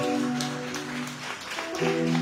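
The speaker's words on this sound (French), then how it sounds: "On applaudit plus fort." An audience at a ceremony applauds steadily, dense clapping filling the room with faint music tones underneath.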